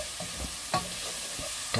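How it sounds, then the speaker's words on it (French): Onions are stirred in a hot sizzling pan for a sausage and vegetable risotto, with a spoon scraping and clacking a few times over a steady fry. "on mélange les oignons"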